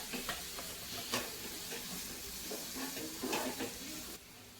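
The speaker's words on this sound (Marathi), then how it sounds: "आता टमाटर टाकूया बारीक कट केलेला." Finely chopped tomato sizzles in a hot pan while being sautéed for dhirde, a steady frying hiss broken by soft stirring scrapes before it drops quieter near the end.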